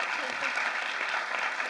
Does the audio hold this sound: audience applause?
yes